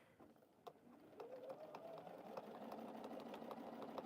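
A sewing machine stitching in the ditch along the binding of a t-shirt quilt, a quiet, steady mechanical whir that starts faintly and then runs continuously with a rapid ticking rhythm.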